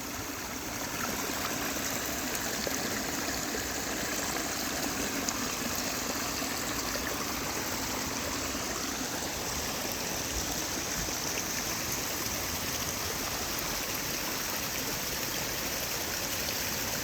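A stream at a nature center in Clinton flows steadily, its water rushing and trickling in a continuous, even wash with no voices over it.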